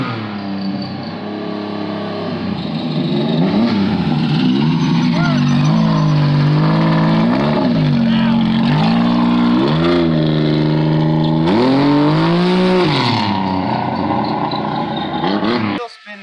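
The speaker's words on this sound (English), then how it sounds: "Well, it definitely does a burnout." A drag-style car with wheelie bars does a burnout, its engine roaring loud and steady for about fifteen seconds with rising and falling revs as the tyres spin, continuous and close, then cutting off abruptly at the end.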